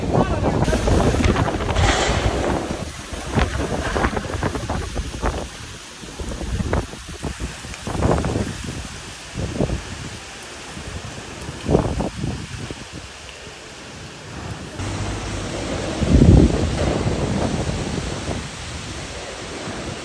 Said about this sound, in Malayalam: കാറ്റ് എന്ന് പറഞ്ഞാൽ പെരുങ്കാറ്റ്. നല്ല കാറ്റ് വന്നു.